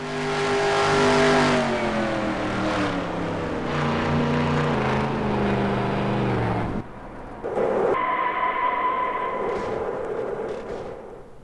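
A race car engine in the NASCAR Racing 2003 video game revs loud and close with rising and falling pitch, drops off abruptly, then resumes at a higher steady whine.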